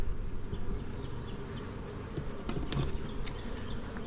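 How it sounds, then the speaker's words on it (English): Honey bees buzzing over a hive frame during a mid-April beekeeping inspection, a dense, steady close-up hum with occasional individual bees flying past. "A lot of bees on this frame too,"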